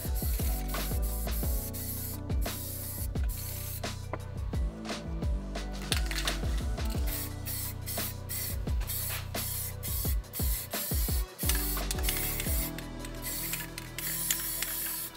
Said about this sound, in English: the spray paint kept blowing it all over the place